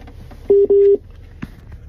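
Two loud electronic telephone tones, the second longer, sound in quick succession before a call is picked up, followed by a faint click and quiet background.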